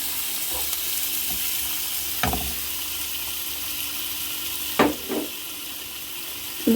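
Chopped tomatoes go into a pan of sautéed onions, setting off a steady, close sizzle with a few dull stirring knocks scattered through it.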